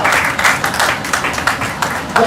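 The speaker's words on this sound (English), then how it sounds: "Clap properly." An audience at a seminar claps, a close, lively burst of many hands in a fairly even rhythm lasting a couple of seconds.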